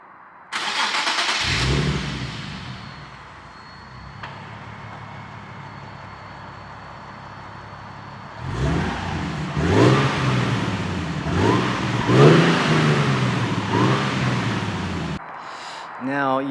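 Nissan 370Z engine cranking and firing up with a loud burst, settling into a quiet idle, then several quick revs rising and dropping, heard close by.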